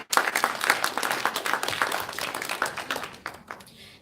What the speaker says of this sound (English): let's give a big applause for LPDP MONASH community